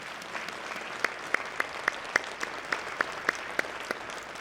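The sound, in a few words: congregation applauding in church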